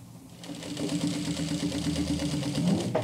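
Sewing machine stitching a jeans hem across a bulky flat felled seam, a fast, even mechanical chatter of needle strokes running continuously at close range after a brief quiet start, with no talking.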